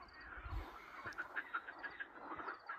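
Frogs croak at night outdoors in a faint, rhythmic chorus of quacking, repeated calls pulsing steadily at a distance, with a low thump early on and no talking.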